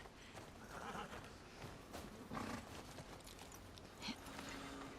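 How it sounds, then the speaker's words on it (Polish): Horse hooves clip-clop and a brief neigh in The Last of Us Part II, moderately loud amid game ambience and a faint voice. "Dobra, wsiadamy na konia i lecimy dalej."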